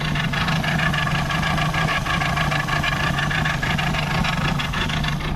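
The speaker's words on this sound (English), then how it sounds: "So that's how we manually start the engine with just a piece of stringy thingy." A Mercury 60EFI outboard boat engine idles steadily after being pull-started by hand, a close, even, loud mechanical rumble with a fast regular pulse and no speech.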